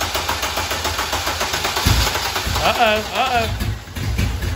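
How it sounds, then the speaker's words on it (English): A swapped car engine cranks over, then catches and starts, a rough mechanical churn rising into a brief revving burst, with people talking briefly over it. "I guess we're gonna just let it spin over for a second and see what it does."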